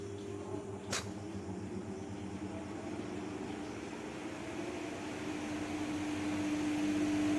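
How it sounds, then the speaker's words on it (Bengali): An electric stand fan runs indoors with a low, even whir and steady drone that swells slightly toward the end, faint and with no voices. "আমার স্ট্যান্ড ফ্যানটা ছেড়ে দাও।"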